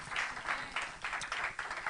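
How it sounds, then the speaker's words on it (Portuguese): A church congregation claps together in a steady, dense burst of applause during an Easter service, loud and sustained with no voices rising above it. "Quem pode aplaudir ao Senhor neste momento?"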